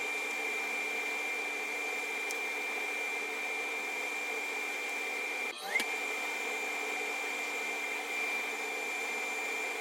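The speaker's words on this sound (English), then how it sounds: "turn on your dust collector, and then reposition." A workshop dust collector runs with a constant, moderately loud whine and airy rush, a brief knock or shift breaking the steady hum midway.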